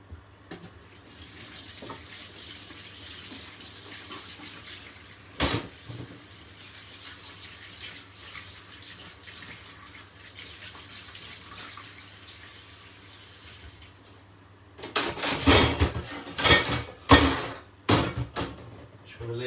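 Tap water runs steadily at a sink while vegetables, including broccoli, are washed; a gentle broadband wash continues for most of the time, then louder splashing bursts and gushes come in near the end. Speech is present.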